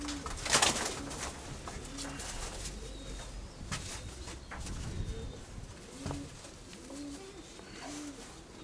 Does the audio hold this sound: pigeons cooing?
yes